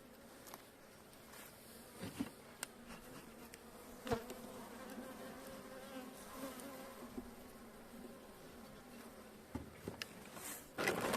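Honey bees buzz steadily around a hive in spring, a dense, soft, continuous drone close by with occasional louder passes of single bees and no talk.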